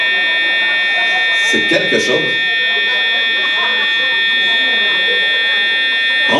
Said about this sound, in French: c'est une alarme qu'on ne peut pas arrêter nous-mêmes